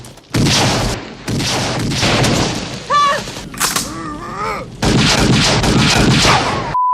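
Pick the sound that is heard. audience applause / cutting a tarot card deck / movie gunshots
movie gunshots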